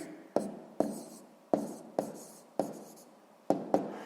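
Pen writing an answer on paper for a sixth-grade math exercise, heard as a series of sharp close taps and short scratchy strokes, about eight in quick irregular succession, with no talking.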